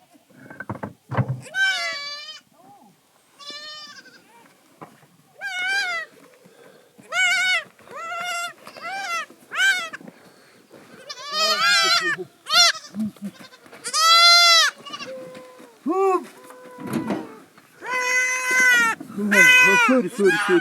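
A large herd of nomads' sheep and goats bleats loudly and close by in the Kharnak winter grazing grounds, many overlapping calls rising and falling continuously, some high and wavering like crying.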